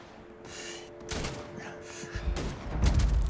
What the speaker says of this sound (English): I love this hunting rifle.